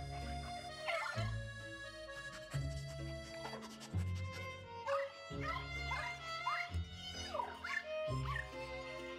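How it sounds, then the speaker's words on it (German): A dog whimpers and yips in short whining bursts over game music in Luigi's Mansion 3, repeating several times, fairly close and clear. "Ah, Hundi hat Hunger."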